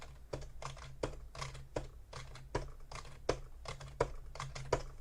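Someone types on an ergonomic computer keyboard during a computer science lecture. Crisp keystrokes come in quick, uneven bursts with short pauses, close and clear, with no speech.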